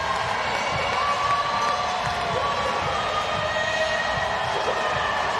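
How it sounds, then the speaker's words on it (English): A big arena crowd at the CrossFit Games roars steadily as an athlete pushes to finish, a dense, unbroken wall of cheering and shouting that stays loud throughout. "as Roman Krennikov is being encouraged by the crowd to finish up here."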